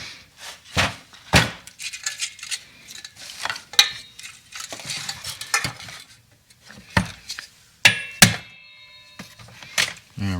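A hammer taps a rivet out of the body of a 1973 Mercedes 450SL R107, giving sharp, irregular metallic knocks and clanks spread across the stretch, some loud and some lighter, among quieter handling noises.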